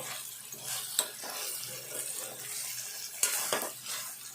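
A Telangana drumstick and green chili tamarind curry fries in a pan, a steady close hiss and sizzle with a couple of sharp stirring scrapes.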